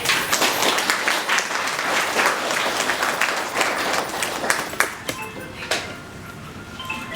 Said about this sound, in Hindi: तो जोरदार तालियों से